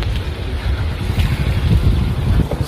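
Wind blows outdoors at a college fest, buffeting the microphone with a loud, steady low rumble and gusty roar throughout.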